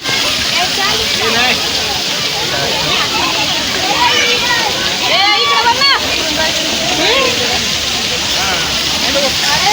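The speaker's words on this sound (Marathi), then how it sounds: "Fountain type." A water fountain splashing in a zoo garden in Mumbai, a constant broad rush of falling water with children's voices and people talking over it.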